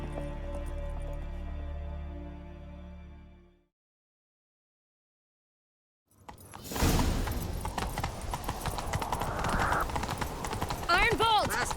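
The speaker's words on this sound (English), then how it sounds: "Grab a horse, we'll chase him down." Horse galloping in The Witcher 3: Wild Hunt during a chase, a loud, steady rush of hoofbeats following a brief silence, with game voices and music nearby.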